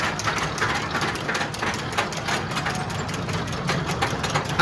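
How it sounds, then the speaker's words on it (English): A roller coaster's tire drive runs during an on-ride view at Walibi World in the Netherlands, giving a continuous mechanical whir with a rapid, even pulsing rattle that stays steady and fairly close throughout. "You can see the tire drive right there."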